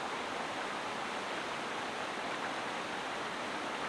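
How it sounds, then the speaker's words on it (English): A waterfall with a long section of koi fish below it roars in a steady, broadband rush that holds even and continuous throughout, with no voices over it. "here's the waterfall."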